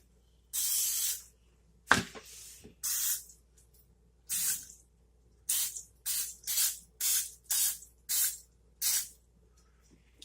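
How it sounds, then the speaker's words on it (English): Cooking spray mists over a donut pan in a home kitchen, about a dozen short, close hissing bursts with brief silent gaps, the later ones coming in a quick, regular rhythm. "So we're just going to lightly spray these around just so they don't stick."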